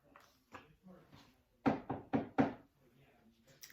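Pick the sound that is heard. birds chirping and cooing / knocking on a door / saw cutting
knocking on a door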